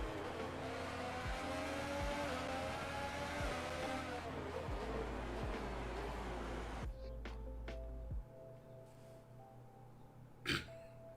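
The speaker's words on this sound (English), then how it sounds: "Car doesn't even sound that nice. It sounds like a plastic PVC pipe with exhaust." A high-pitched Formula 1 engine in a video game drones and revs continuously, then cuts to quieter idling with a brief sharp burst near the end.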